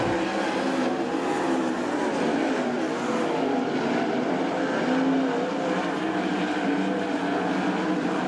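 Winged sprint cars race in a heat at Attica Raceway Park, a dirt oval, their engines roaring in a loud, continuous, dense drone that holds steady with slight pitch swells as the cars run wing to wing out of the turn.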